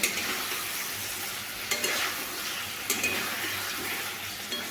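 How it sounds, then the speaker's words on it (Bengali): Potatoes fry with spices in a pan, a steady broadband sizzle broken by a few sharp scrapes and knocks of a stirring utensil, close and moderately loud, with no voices. "মশলা দিয়ে এইভাবে আলুর সঙ্গে মশলাগুলোকে এইভাবে ভালোভাবে আমি এখন একটু কষিয়ে নেব"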